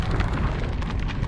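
A fiery Confringo spell blast from Hogwarts Legacy gameplay: a loud, dense, rumbling explosion that roars continuously through a brief moment with no let-up.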